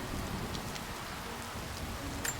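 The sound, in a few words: rain in the video game Rise of the Tomb Raider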